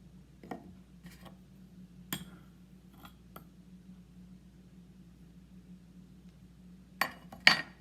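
A spoon clinks lightly against a cup while sugar goes into tea, a few soft, sparse taps near the start and a quicker pair at the end over a quiet low hum.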